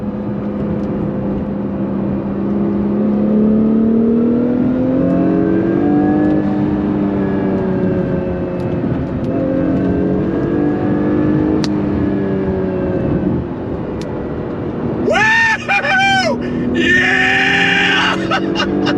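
A 2022 Acura NSX Type S pulls hard through its 9-speed gearbox, the engine note rising and dropping with each shift, close and loud from the cabin, then a burst of high squealing near the end.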